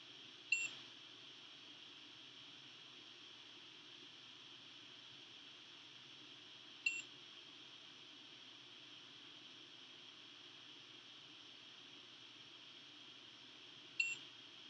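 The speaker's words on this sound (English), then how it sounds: "our GPIO pins, our buzzer, and our LEDs blinking and buzzing at random times" A Raspberry Pi buzzer wired to GPIO pins gives three short, faint electronic beeps spaced several seconds apart at irregular intervals, each alone over a steady background hiss.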